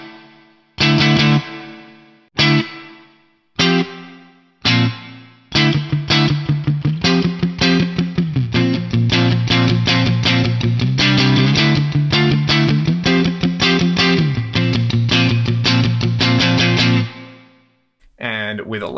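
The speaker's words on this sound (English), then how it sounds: "I think it's a good sounding reverb for those long decay times" Electric guitar through a Free the Tone Ambi Space reverb pedal set to a shorter decay: several single struck chords ringing out, then a steady strummed chord progression with a short, smooth reverb tail, loud and alone.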